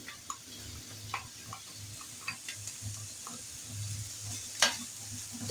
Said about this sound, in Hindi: ये देखिए इस तरह से इसको सौते कर लें आप